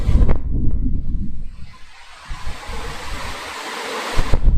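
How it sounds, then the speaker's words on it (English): Strong gusts of wind blowing through a marsh bird hide rumble and buffet the microphone, rising and falling, with a rushing hiss filling the quieter moments. "it's quite windy, blowing through the hide here at the moment"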